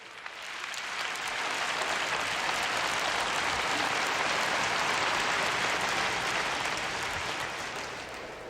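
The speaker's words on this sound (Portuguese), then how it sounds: "Dê uma salva de palmas a Ele." A church congregation breaks into sustained applause, a dense wash of many hands clapping that swells in quickly, holds steady for several seconds and then tapers off, with no voices on top.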